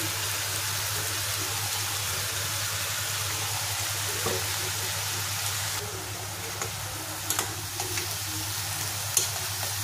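Spice paste for a bamboo shoot recipe dropped into a hot pan, a steady loud sizzle with a low hum underneath and a few scraping stirs near the end, no talk.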